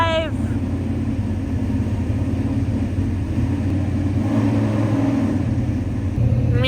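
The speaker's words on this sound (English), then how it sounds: "it's totally something that you hear when you live in North Carolina, right? Race cars." Dirt track race cars roar with a steady, dense engine rumble at a racing event, loud and continuous with a brief swell near the end, while voices chatter underneath.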